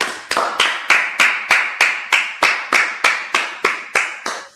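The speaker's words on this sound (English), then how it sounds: "let's clap it up" A class of men at a Tuesday night brotherhood gathering claps in unison, about fourteen sharp, evenly spaced claps in a steady rhythm, close and crisp with no talk.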